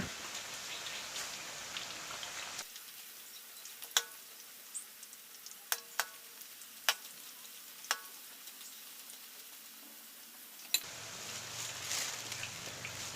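Banana slices frying in hot oil for sweet buttered banana chips, a steady fizzing sizzle like rain while a utensil stirs them apart, with several sharp taps and clinks against the pan; no talking.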